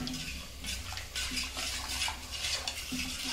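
A spoon stirs curry powder mixed into a rohu fish curry made without coconut, a soft continuous scraping and clinking against the pot at moderate, even volume.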